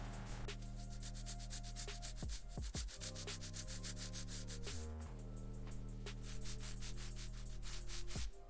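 Machine polisher doing paint correction on the bodywork of a VW Beetle barn-find restoration, a steady close whirring and rubbing drone that shifts pitch as pressure and speed change, running continuously with no talk.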